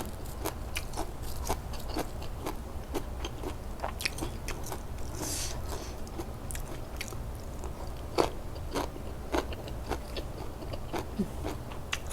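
Crispy pork belly is bitten and chewed up close, with repeated sharp crunches and crackles over a soft continuous chewing texture, steady for about twelve seconds with no talking.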